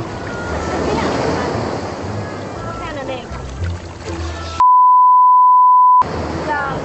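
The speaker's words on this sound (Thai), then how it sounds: "เสียงคลื่นของน้ำทะเล" Sea waves wash and rumble on a beach under wind buffeting the microphone, a broad steady surf roar with people talking over it, cut briefly by a long steady beep.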